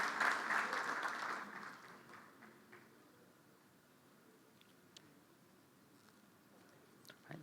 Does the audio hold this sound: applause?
yes